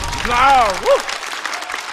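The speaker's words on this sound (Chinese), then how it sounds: "再次掌声送给齐宝" A studio audience at a stand-up comedy show claps in a brief burst of applause, partly under a person speaking over it.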